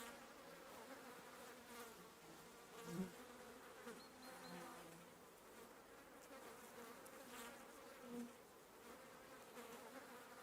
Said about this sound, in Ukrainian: Мухи літають.